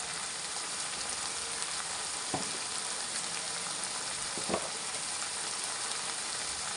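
Onions frying in a pan with chili powder for a prawn and egg curry, giving a steady broadband sizzle with two soft stirring knocks, alone and fairly quiet.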